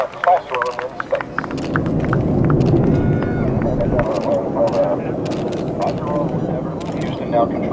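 Space Shuttle Endeavour lifts off on STS-118 with a broad, rumbling roar that swells and holds under loud talk, with scattered clicks and crowd sounds nearby.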